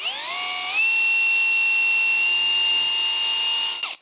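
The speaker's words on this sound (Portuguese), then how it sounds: "então vamos fazer um furo guia aqui. Não queremos rachar nosso belo pedaço de madeira." A power drill bores a pilot hole in a piece of wood while a sliding barn-style door is being installed: a loud, close, steady high whine that ramps up in pitch at the start, holds, then cuts off.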